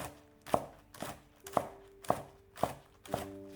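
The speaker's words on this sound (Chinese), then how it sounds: "下面准备几颗刚从地里摘的新鲜小葱，给它切成葱花" A knife chops freshly picked spring onions on a cutting board, six or so sharp, evenly spaced strikes about half a second apart, close and clear with no talk.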